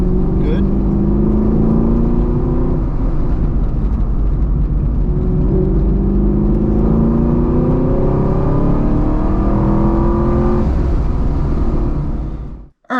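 A 6th-generation Chevrolet Camaro fitted with BMR parts laps a road course, its engine loud and close from inside, repeatedly rising in pitch under throttle and easing between gear changes.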